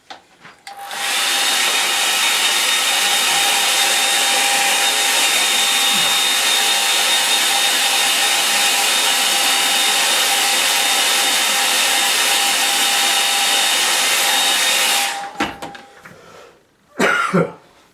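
A hair dryer blows loudly and evenly for about fourteen seconds while drying a watercolour painting, then cuts off, followed by a brief cough and throat clearing close by.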